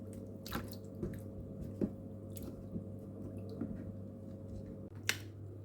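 Soaked saltfish is washed by hand in water, heard as soft squelching and dripping with scattered wet clicks and a few sharper splashes, quiet and close over a low steady hum.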